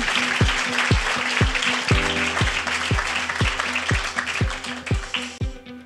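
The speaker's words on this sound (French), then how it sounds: "je pense qu'on peut tous les applaudir" An audience at an awards reveal applauds the winners with a steady wash of clapping that runs under a thumping, evenly paced music beat, then fades near the end.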